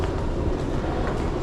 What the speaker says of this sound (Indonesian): Di bawah sana ada kereta